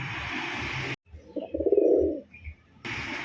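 A white pigeon gives a short rolling coo up close, framed by bursts of broadband noise before and after.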